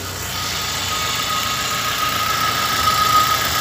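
Chevrolet Corsa engine idling steadily just after starting, a close, even mid-pitched hum with faint vibration and no talk over it.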